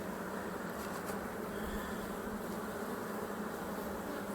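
Honeybees buzzing around an open hive during an inspection: a dense, steady droning hum, faint and continuous, with a few individual bees briefly passing closer.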